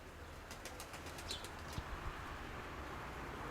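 Pigeons hopping down near scattered feed outdoors in wind, with a brief flutter of wings and light soft taps, faint and mixed into steady wind noise.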